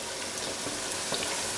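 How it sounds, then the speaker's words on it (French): Battered pieces frying in very hot oil in a small deep fryer for cheeseburgers, a steady close sizzle and bubbling that holds evenly throughout with no voices. "on se les plonge dans l'huile bien chaude"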